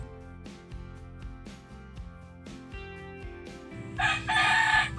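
A rooster crows loudly and close by, a drawn-out cock-a-doodle-doo near the end, following a run of sharp, rhythmic knocking sounds.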